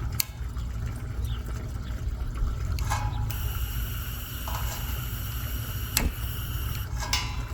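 Propane gas flows into a radiant heater with a steady close hiss and rushing noise, broken by a few sharp clicks and taps.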